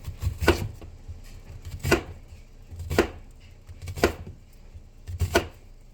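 Regular slices cut with a kitchen knife through vegetables on a cutting board while dinner is cooked, five crisp, evenly spaced chops about a second apart, close and clear against a quiet room.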